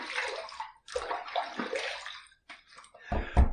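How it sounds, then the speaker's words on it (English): Water splashed onto a face before shaving with a Phoenix Shaving Quantum razor: a few close, wet splashing bursts with short pauses between them, ending in louder sloshing splashes near the end. "I just want to throw a little bit of water on my face"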